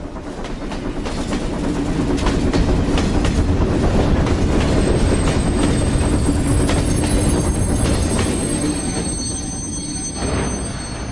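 A train at a station in Indika rolls past with a continuous loud rumble and rhythmic clatter of wheels on track, swelling and then easing off over several seconds, with no one talking.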